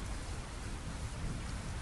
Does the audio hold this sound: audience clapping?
no